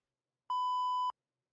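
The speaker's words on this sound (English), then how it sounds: "Oops, I forgot to beep it." A single steady electronic censor bleep, a pure tone lasting about half a second, loud and clean against silence.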